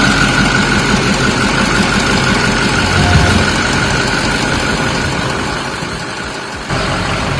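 A broken-down vehicle's engine, just restarted after transmission work, idles loudly and steadily close by with a deep continuous rumble that eases slightly near the end.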